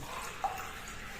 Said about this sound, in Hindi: अब भाई पानी डालना है इस देचकी में।